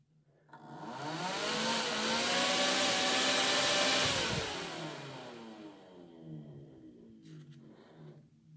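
A small electric windshield demister fan bought from AliExpress spins up with a rising whir, roars steadily for a few seconds, then winds down with a falling pitch, with a couple of faint clicks near the end.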